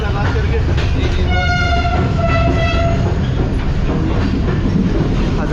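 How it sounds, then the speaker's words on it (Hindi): Hazara Express pulling out of Hyderabad Junction, its horn sounding in a long steady blast over continuous rumbling wheel and car noise, with a voice talking nearby. "हज़ारा एक्सप्रेस जो है ये भी निकल रही है हैदराबाद जंक्शन से"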